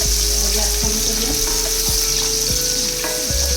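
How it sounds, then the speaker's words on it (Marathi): Spring onion sizzles loudly and continuously in hot oil in a close pan, a dense frying hiss with occasional utensil taps. "आता हा कांदा तळूया"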